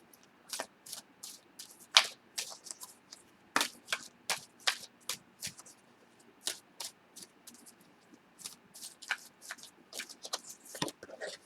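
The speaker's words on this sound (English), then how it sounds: "I'm going to pull one more color card for you to tie in the rest of the reading." Tarot cards being shuffled and drawn from a deck, a long run of quick, crisp riffling snaps and slaps in irregular bursts, close and fairly quiet, with no talking.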